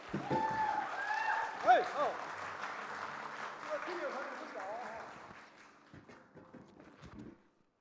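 A congregation at a church Sunday service applauds steadily, the clapping fading out toward the end, with voices talking over it.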